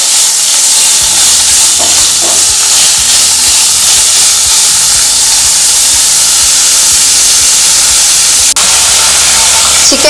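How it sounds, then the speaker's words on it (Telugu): Chicken frying in a pan for a spicy hot chicken soup, a loud, steady, close sizzle and hiss throughout, with occasional stirring scrapes underneath. "చికెన్ మంచిగా ఫ్రై అవ్వాలి."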